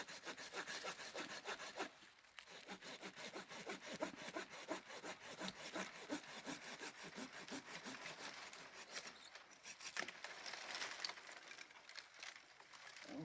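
A hand saw rasps back and forth through an old apple tree branch during spring pruning, a fast, even rhythm of gritty strokes, close by and fairly quiet, with a couple of brief pauses.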